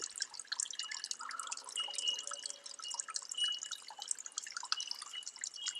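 Water drips through a filter bag during pre-filtering to clarify water, a faint, continuous patter of small irregular drips and trickles with no voices.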